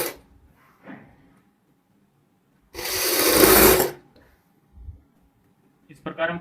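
A sewing machine runs in one steady burst of about a second, stitching a collar onto a kurti, with brief handling clicks and quiet pauses around it.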